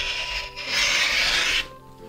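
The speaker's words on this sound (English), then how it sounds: "I'm just going to cut a little bit of extra." Scissors cutting through quilting cotton around a paper template for a Christmas stocking, a close, short rasping snip with a brief pause before a longer, steadier slice.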